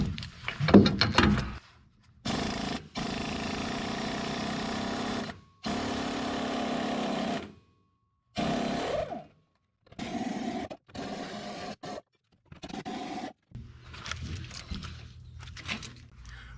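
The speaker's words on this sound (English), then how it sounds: "So we'll take the 24 mil and we'll undo the U-bolts." Leaf spring U-bolt nuts on a Ford F250 Super Duty pickup being undone with a 24 mm socket: repeated bursts of rapid mechanical ratcheting or power-tool whirring, separated by short silent gaps, close and fairly loud with no talking.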